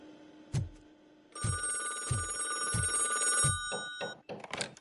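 A telephone rings in the Robocop video game. Several loud, repeated bell rings come in a steady rhythm, close and prominent, with faint sounds at the end.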